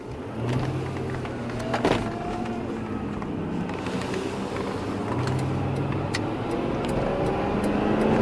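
Power window motor on a 2008 Lincoln limousine, a rising electric whine that runs for several seconds over the car's idling engine and road hum, close inside the cabin.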